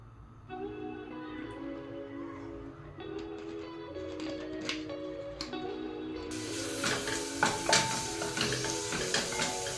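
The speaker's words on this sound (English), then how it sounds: "My onions are cooking." Onions frying in a pan at home, a soft sizzle under quiet background music that grows louder and brighter toward the end, with occasional clinks of a utensil against the pan.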